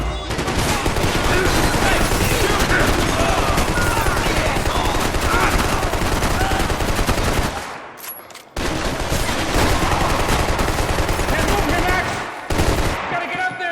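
Sustained, loud rapid gunfire from the PC game Max Payne 3 on hard mode, nearly continuous bursts with a brief pause at about the midpoint and another short break shortly after, then firing resumes.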